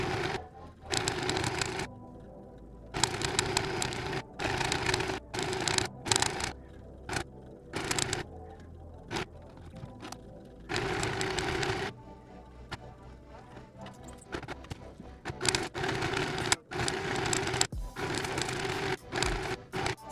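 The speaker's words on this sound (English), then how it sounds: "we are going to sew along this edge over here as close to the edge as" A sewing machine stitches along the edge of a folded fabric strap in repeated bursts of rapid mechanical whirring, each run stopping and starting again with brief pauses between.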